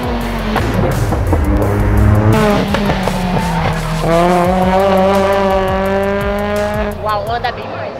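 Cars, including an Astra and a Polo TSI, drifting through a curve on a race track, with loud tire squeals and rising, wailing engine revs sweeping past, one after another at mid distance.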